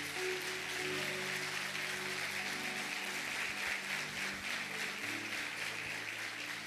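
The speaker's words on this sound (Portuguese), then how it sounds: "Se é para o Senhor, aplaude mais forte" Church audience applauding steadily throughout, a broad continuous wash of clapping with some low hum and tonal background underneath, no clear speech.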